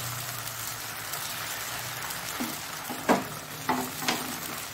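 Thin bottle gourd neer dosa batter sizzles on a hot pan, a soft steady crackle with a few louder spitting bursts toward the end, no talking.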